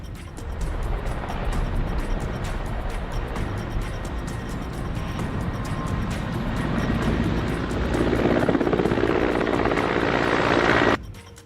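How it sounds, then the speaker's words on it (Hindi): An Army Mi-17 helicopter in flight, a loud, steady rotor and engine roar that holds for about eleven seconds, swells slightly toward the end, then cuts off abruptly, with no voices. "सेना के MI-17 हेलीकॉप्टर और बड़े मालवाहक विमान काम पर लगे हुए हैं।"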